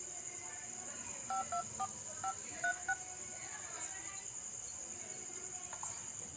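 A quick run of telephone keypad tones places a call, the short beeps clustered in pairs, over a faint, steady chorus of chirping crickets.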